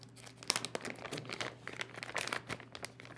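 A Lectrosonics SRc wireless receiver is pulled from a small plastic bag, making close, irregular crinkling and rustling with a few sharper crackles.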